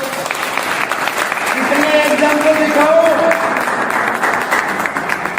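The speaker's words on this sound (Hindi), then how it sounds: "तालियां मारो एक बारी।" An audience claps at a talk on DTM income and royalty achievement, swelling into a dense burst of applause in the middle while the speaker keeps talking over it.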